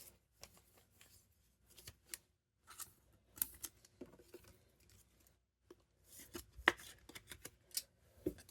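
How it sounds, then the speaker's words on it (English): A Panini Prizm football trading card slides into a plastic sleeve, producing faint, intermittent scrapes, crinkles and light taps in a quiet room. "So I'm going to sleeve that up real quick."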